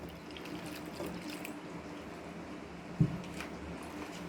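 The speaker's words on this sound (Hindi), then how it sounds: "अब मैं इसमें पानी शामिल करूँगी।" Water trickles into a bowl of flour mixture for samosa and roll pastry, a faint continuous splashing and pouring with a small knock of a vessel near the end.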